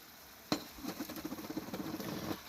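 Roughly chopped onion hits a hot pan with cooked chicken for a chicken tikka masala, a sudden clatter followed by a quick pulsing sizzle and stirring scrapes, close and fairly quiet, no talking.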